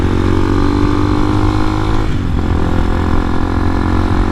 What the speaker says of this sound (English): we'll kind of just do a test and see how this thing does on the hills